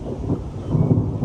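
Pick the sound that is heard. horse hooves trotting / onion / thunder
thunder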